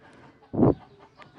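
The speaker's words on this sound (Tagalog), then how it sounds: "Pasensya na kayo kung may marinig kayong manok dito." A single short cluck from a chicken nearby, standing out over a faint, murmuring background.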